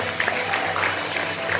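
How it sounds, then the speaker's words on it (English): An audience at a jam session gives a steady round of applause, dense clapping at fairly even loudness throughout the short burst. "Can I get a round of applause for my brother"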